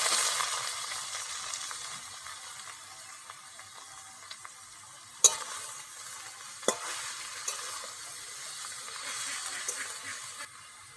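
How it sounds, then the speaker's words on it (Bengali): Boiled cabbage and potatoes tip into a hot pan for a vegetarian cabbage dish, setting off a steady hiss and sizzle with a couple of sharp scraping knocks as the mix is stirred, close and moderately loud, with no talking. "আমি সেদ্ধ করা বাঁধাকপি আর আলুটা ঢেলে দিয়ে দিচ্ছি"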